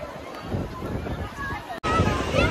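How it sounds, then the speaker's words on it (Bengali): Wind buffets the microphone in a steady broadband roar on Digha beach, with surf noise beneath and a brief dropout near the end. "এখানে হাওয়া জানি না কতটুকু রেকর্ডিং হচ্ছে আমাদের"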